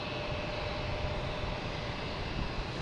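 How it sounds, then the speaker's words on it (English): A JetBlue airliner lines up on the runway at Boston Logan, its jet engines making a continuous broadband roar with a faint whine, steady and moderately distant, with no voices. "So we got a JetBlue lining up"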